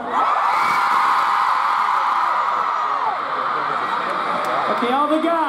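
Concert crowd at a show screaming and whooping loudly and continuously, a dense roar of many voices, with a performer's voice briefly over it near the end.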